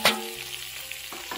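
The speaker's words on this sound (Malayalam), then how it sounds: "ഒന്ന് നല്ലോണം വഴറ്റി എടുക്കും" Onions and green chillies sautéing in a pan with curry leaves, a steady soft sizzle with a brief sharp clatter at the start and a few faint scrapes, no voices.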